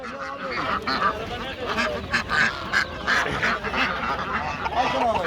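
Ducks quack repeatedly amid a busy, noisy crowd at a poultry and bird market in Adana, with people talking in the background and several birds calling at once.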